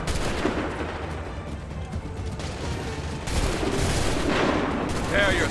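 Soldiers' musket volley gunfire in Assassin's Creed III, a dense crackle of overlapping shots and booms that swells louder in the second half, with shouted commands heard over the battle.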